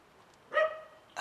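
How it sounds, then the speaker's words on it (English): A dog at an empty house gives one sharp bark, then a brief, fainter yip a moment later, at moderate distance against quiet surroundings. "Just that barking dog."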